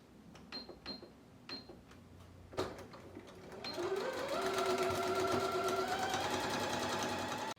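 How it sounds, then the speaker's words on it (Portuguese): A domestic sewing machine runs a steady, close, rapid stitching whirr for several seconds, sewing an outer seam on a towel, preceded by a few light clicks and taps as the fabric is positioned. "a primeira coisa que eu vou fazer é passar uma costura aqui, ó, externa"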